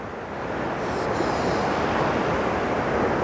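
Sea waves rolling near the shore at Anapa on a rough day, a steady close rushing wash of surf with wind buffeting the microphone, gradually swelling and staying constant.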